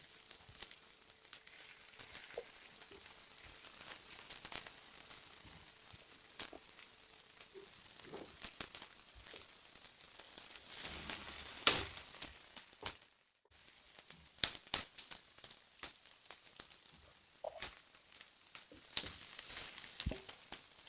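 Elephant yam pieces frying in a pan of hot oil: a continuous crackling sizzle with scattered pops and bursts, steady and close, with a few stirring scrapes.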